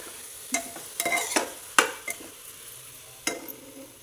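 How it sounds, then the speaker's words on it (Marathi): Potatoes, cabbage and washed rice for pulao being mixed in a pan, with several distinct spatula scrapes and clanks over a faint sizzle, close and irregular, and nobody speaking. "छान असं मिक्स करायचं।"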